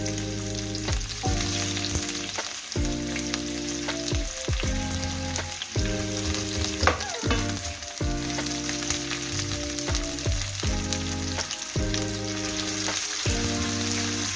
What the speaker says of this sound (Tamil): செமையாக வதங்குற அளவுக்கு நல்லா வதக்கிக்கணும்